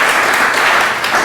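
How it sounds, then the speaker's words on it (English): Steady applause from an audience welcoming panelists at an evening discussion event, a dense, even wash of many hands clapping close and loud, with no gaps or talk over it. "we can give them a round of applause"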